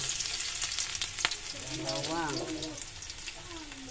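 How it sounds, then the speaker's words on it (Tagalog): Garlic hits a hot pan and fries with a steady crackling sizzle, plus one sharp clink, while someone talks over it at a moderate level. "Ito guys, mainit na yung aking kawali. Yan, lagay ko na guys yung bawang"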